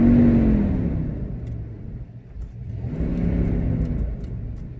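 A 2004 or 2006 Dodge Durango with over 200,000 miles runs steadily after a quiet startup, a smooth, low idle rumble that dips briefly and swells again, close and alone without talk.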